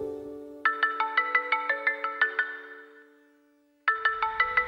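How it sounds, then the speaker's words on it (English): A phone ringtone used as an audio trigger plays a rapid, bright electronic melody of repeated pulsing notes. It fades out, falls silent, then starts again loud and close. "whenever you hear that ringtone"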